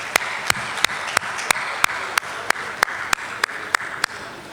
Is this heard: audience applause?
yes